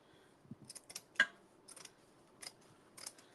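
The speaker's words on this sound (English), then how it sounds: "I'm gonna use my heavy duty scissors," Heavy duty scissors cutting through burlap make a series of quiet, crisp snips at uneven intervals, with one sharper cut standing out in a near, hushed setting.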